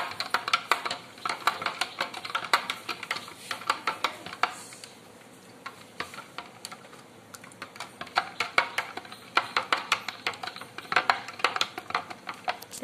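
Detox drink ingredients with black salt are mixed briskly, making a steady run of quick, light clicks and taps from the stirring utensil against the container, close and fairly quiet.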